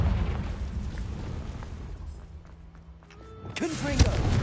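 A Confringo fire spell blasts in Hogwarts Legacy, a deep booming explosion with thuds and crackling burst near the end, over a rumbling game soundscape.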